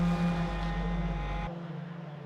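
Ford Fiesta race car at Cadwell Park, heard from onboard while accelerating along the straight: a steady loud engine drone with a sharp tonal whine, abruptly thinning midway as if shifting gear, the sound continuous and close.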